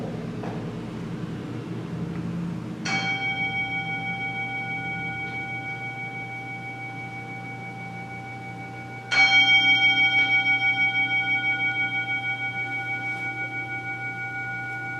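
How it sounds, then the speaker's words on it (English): Chimes and a singing bowl at a sacred gathering during an Ingathering and Water Ceremony: two separate strikes, each ringing out in long, pure, sustained tones that slowly fade, with no talking. "listen to the sound of the chimes and the singing bowl"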